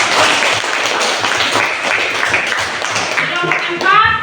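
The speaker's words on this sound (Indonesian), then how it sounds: "Tepuk tangan dulu." Classroom group clapping in an Indonesian school coaching session, a burst of fairly loud, busy hand claps with some voices mixed in, ending with a brief chatter of talk near the end.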